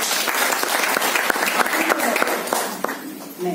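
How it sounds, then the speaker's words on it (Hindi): Audience clapping during a DXN business talk, a lively burst of many hands with sharp individual claps standing out, tapering off near the end. "तालियां बजाने के लिए"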